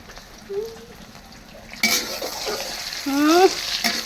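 Oil heats in a pan on a home stove for a tangy raw mango and tamarind pickle, with soft sizzling and stirring scrapes growing louder midway, while a voice speaks briefly over the cooking.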